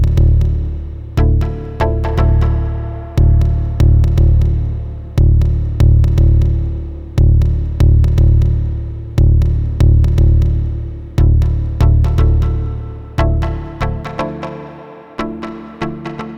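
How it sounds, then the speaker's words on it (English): Plucked synth chords from a Mutable Instruments Elements module blended with a deep bass pluck from a Bassimilus module play in a steady sequence of loud, evenly spaced notes, each sharp attack decaying quickly, with no voices. "I'm going to blend a pluck style chord out of the Mutable Instruments Elements module with a bassy pluck generated from the Bassimilus"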